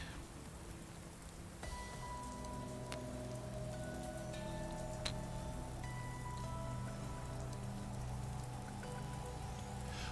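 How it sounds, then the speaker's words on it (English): Steady rain pattering on surfaces in the video game Skyrim, a continuous even hiss of falling drops with faint tonal game sounds and chimes layered underneath, no voices. "The only other situation here is the rain effect."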